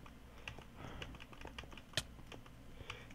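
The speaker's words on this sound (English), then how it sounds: "I'm just gonna keep clicking. I'm gonna keep clicking." Keyboard and mouse clicks come in a quick, uneven series at low level while a Minecraft minigame is played, with one sharper click standing out midway and no voices.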